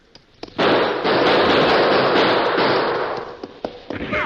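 A sustained volley of rapid gunfire fired into a cave entrance bursts out and rattles for a few seconds, then tapers into a few scattered shots.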